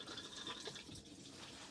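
A cassette toilet in a Globecar Roadscout Elegance campervan flushes with a soft, close rush of water into the bowl, steady and fairly faint, lasting under two seconds.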